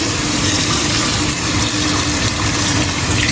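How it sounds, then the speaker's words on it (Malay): Clean water gushes loudly and steadily into a pot of rice being washed in a home kitchen, a close, continuous rushing fill with no voices. "lepas tu kita masukkan air bersih"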